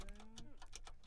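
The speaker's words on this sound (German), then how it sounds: "Das waren die Kuhgeräusche in dem Feld?" A cow moos in the video game Minecraft, a brief low drawn-out bovine call heard faintly under game noises and scattered short clicks.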